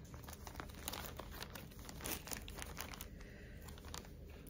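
Plastic packaging crinkles and rustles while a basket of cross-stitch supplies is unpacked. The crackling is close but faint and continuous, with sharper crunches throughout and no talking.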